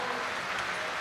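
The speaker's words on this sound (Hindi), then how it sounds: "पीछे वालों भी जोरदार ताली बजा के धन्यवाद दो" A crowd at a large religious gathering of Bageshwar Dham Sarkar claps steadily, a dense, even wash of applause that holds for about a second with no break.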